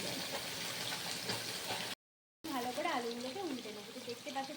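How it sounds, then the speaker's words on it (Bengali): Oil sizzles steadily as potatoes fry in a pan. After a short silence a voice begins talking over the crackle. "আলুটাকে ভালো করে ভেজে নেবে"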